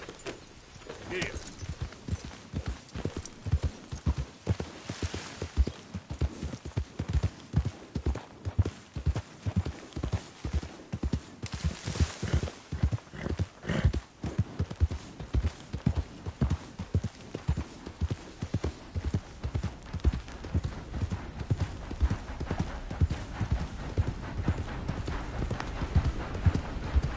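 Horse hooves clip-clop in a steady, even walking rhythm throughout, loud and close, while riding in a PS4 video game, with faint background game sounds beneath the hoofbeats.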